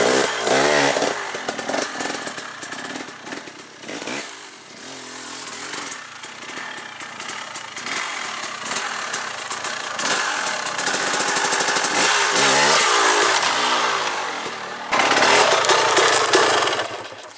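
Enduro dirt bike engine revving hard and loud as the rider crosses logs on a trail, throttle rising and dropping in repeated bursts with sharp blips, close to the microphone and no talking.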